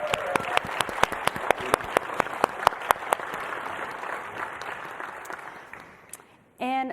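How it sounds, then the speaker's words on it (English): Applause from the audience at an annual general meeting, honouring council members: a steady run of sharp claps over a crowd wash that gradually tapers off, then a brief voice right at the end. "ask everybody to give them a round of applause"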